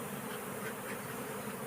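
Honeybee colony buzzing from an open hive, a dense, steady drone of many bees close by with no voices.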